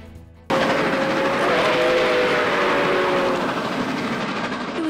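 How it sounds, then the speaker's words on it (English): Nickel Plate Road 765 steam locomotive and its excursion train roll past near Corning, a loud steady rumble and clatter of wheels with a faint sustained whistle tone partway through. "Historic Nickel Plate Road locomotive number 765 powered the first steam excursion train from Buffalo to Corning"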